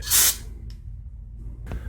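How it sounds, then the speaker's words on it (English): A short, loud hiss of carburetor cleaner spray bursts at the start, followed by quieter hisses and faint clicks against a low hum, cleaning the carburetor passages of a 1995 Artisan Earthquake auger that won't start. "With this awesome NAPA carburetor cleaner and choke cleaner, I'll spray the passages out."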